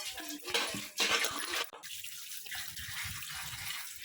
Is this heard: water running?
yes